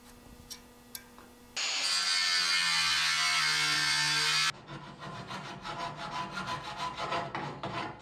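Metal mounting tabs for a Jaguar Mk2 radiator being trimmed with a file or saw: a loud, steady rasping stretch of about three seconds, followed by quicker, rhythmic scraping strokes, with faint ticks before it and no talk.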